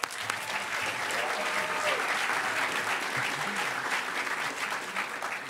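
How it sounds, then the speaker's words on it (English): Audience at the Hackers On Planet Earth 2012 closing ceremonies applauds Rob T. Firefly of the design team; dense, sustained clapping from a large crowd, steady and loud throughout with no speech. "Give him a round of applause."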